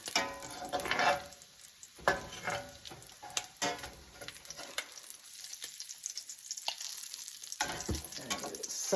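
Crisp, fatty bacon lifted out of a frying pan with a slotted spoon as the fat keeps sizzling quietly, with a few scraping clicks of the spoon against the pan, close but low in level.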